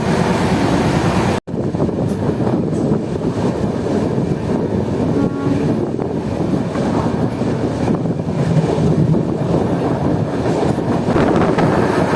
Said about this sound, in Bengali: আমাদের ট্রেন প্রায় 110 কিমি/আওয়ার স্পিড ছুঁয়ে ফেলেছে